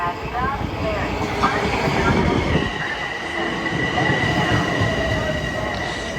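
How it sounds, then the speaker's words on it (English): A Metro-North commuter train rolls into Hastings-on-Hudson station with a steady rumble and screeching wheels, heard nearby from the platform. "Next to arrive on track 3 is the 3:06 p.m. train to Croton Harmon,"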